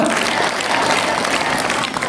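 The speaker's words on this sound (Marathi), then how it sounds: "आता ज्याने जोराने टाळ्या वाजवल्यात" Loud, dense audience applause at a public talk, a continuous roar of clapping hands from a large crowd that holds steady throughout.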